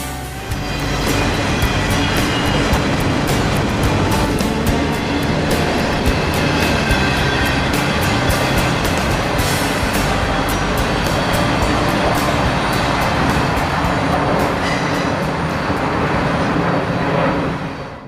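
A long freight train of empty auto rack cars rolls past close by, a loud, continuous rumble of wheels on rails with scattered metallic clanks and squeals.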